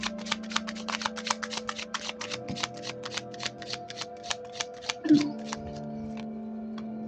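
Tarot cards being shuffled by hand, a steady run of quick riffling clicks at a close, quiet level, with a low steady hum behind and a brief louder knock near the end.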